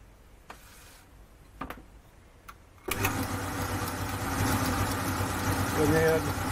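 Gingery milling machine with an upgraded transmission stepping up to a higher speed: a few faint clicks, then a steady mechanical whirring hum that starts abruptly and grows slightly louder, running continuously and near.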